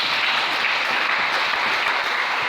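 A congregation at a church service bursts into sustained, steady applause, a dense wash of clapping that holds at a constant level throughout with no talking over it.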